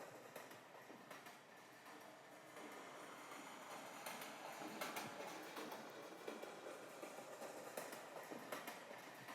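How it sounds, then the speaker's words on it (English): A train rumbles past steadily, its wheels clattering in a continuous clickety-clack at moderate distance, with no voices. "So I'm taking this train sound here."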